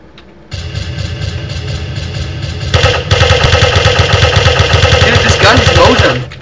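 Uzi submachine gun fire in the zombie video game Radio Zed: a loud, continuous rapid-fire burst roars for several seconds, growing denser partway through, with game noise underneath and no voices.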